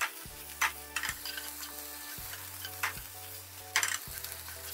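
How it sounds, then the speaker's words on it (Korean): Squeezed-out eggplant stir-fried in a pan, a steady low sizzle with periodic scraping strokes and a few louder clatters of the spatula, close and with no talking, set against a quiet background music bed. "물기 짠 가지를 넣어줍니다. 가지하고 같이 볶아서 수분감을 날려줘야 됩니다."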